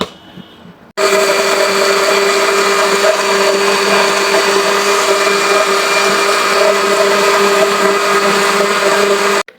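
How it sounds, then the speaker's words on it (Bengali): A blender whirs loudly and steadily after a sudden start, blending watermelon juice with powdered milk; the motor's high, even whine stays constant for several seconds before stopping. "এখন ব্লেন্ড করার পালা।"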